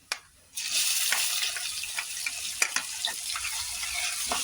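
Ginger garlic paste dropped into hot oil with crackled cumin and whole spices for masala bhat, giving a sudden loud, steady sizzle that starts after a brief quiet moment, with faint stirring clicks and no voices.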